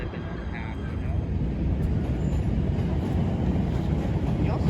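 A PATH train at Harrison Station gives off a steady, loud low rumble throughout, the kind a passing rail car makes, with faint voices behind it.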